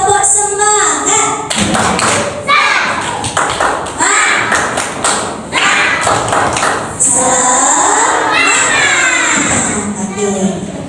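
A class of schoolchildren performs a rhythmic clapping chant, with bursts of sharp claps in patterns alternating with the children's chanted voices, loud and close in a classroom.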